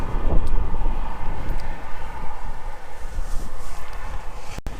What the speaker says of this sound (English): and it's already windy here.